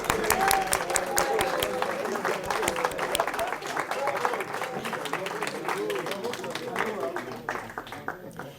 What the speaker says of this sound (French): Ce que je propose, c'est qu'on applaudisse les prêtres.